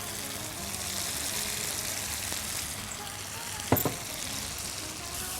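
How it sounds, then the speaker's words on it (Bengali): Garlic and ginger paste sizzling in a pan as it is cooked down, a low continuous frying crackle with one brief clatter of a spoon against the pot partway through. "রসুন বাটা, আদা রসুন বাটা দিয়ে ভালো করে কষিয়ে নিয়ে"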